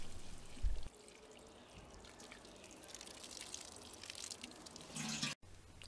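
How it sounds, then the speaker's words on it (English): Water is poured over newly planted snapdragons (Antirrhinum) set into backfilled soil, a soft continuous splashing and trickling that runs steadily for several seconds, close by, with no one speaking. "Then give the plants a good soaking."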